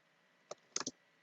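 Faint keystrokes on a computer keyboard: a single tap followed by a quick cluster of three clicks, close and quiet against a silent background.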